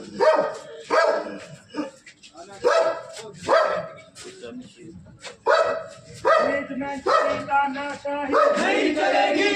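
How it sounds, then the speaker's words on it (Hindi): Dog barking repeatedly amid a union protest rally in India, the barks mixing with loud crowd chanting and shouting that continues throughout. "कुत्ता पकड़े देखो।"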